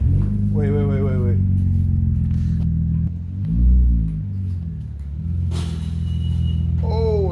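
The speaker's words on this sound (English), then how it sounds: "Oh, that's the exhaust." Exhaust of a 2001 Audi S4 B5 giving a loud, steady low rumble throughout, swelling briefly at one point, with people talking over it.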